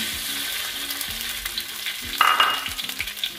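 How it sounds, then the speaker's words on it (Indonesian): Ground spice paste hitting hot oil in a wok and crackling steadily, with a louder burst of sizzling partway through as it is stirred. "Minyak sudah panas, kita masukkan bumbu yang telah dihaluskan"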